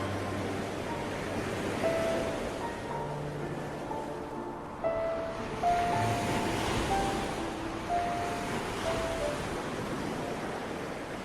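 Ocean waves murmuring on a quiet night, a soft continuous wash of surf with gentle swells, faint and distant, with faint tonal sounds drifting over it and no voices.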